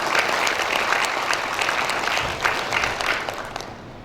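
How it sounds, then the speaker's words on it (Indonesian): A graduation ceremony crowd applauds warmly, many hands clapping in a steady, moderately loud wash that holds for a few seconds and begins to fade at the close. "Beri tepuk tangan yang meriah."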